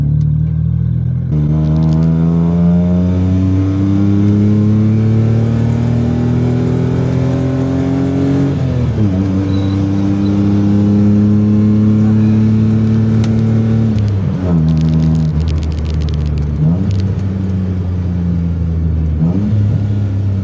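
The engine of a 1992 Suzuki Swift drones loudly while driving, rising in pitch under throttle, then dropping through shifts and braking, with repeated climbs and dips across the stretch and no voices.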